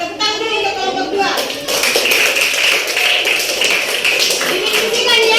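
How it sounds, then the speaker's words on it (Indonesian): A class claps for a student group presenting in a school lesson, dense rapid clapping close by that starts thinner and swells after a second, continuing steadily with some voices mixed in. "Tepuk tangan dulu untuk kelompok 2."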